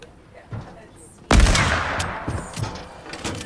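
A loud, sharp sniper rifle shot in Fortnite, a single close crack followed by a long rumbling tail and a few fainter shots, with voices talking around it.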